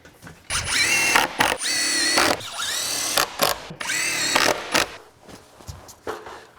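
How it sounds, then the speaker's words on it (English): A power drill whirs in several loud bursts, revving up and stopping between pulls, with short quiet gaps and a brief ratcheting sound. "Where's my drill at, Greg?"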